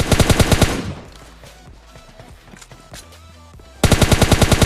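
M4 rifle gunfire in a battle royale video game comes as a loud, close automatic burst, then a stretch of quieter game ambience with faint scattered sounds, then another rapid, evenly paced burst at the end.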